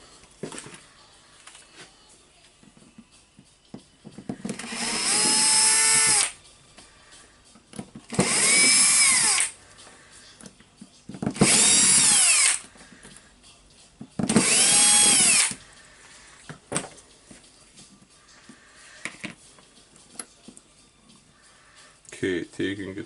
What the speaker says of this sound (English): So I will unscrew the 4 screws to check the gear assy.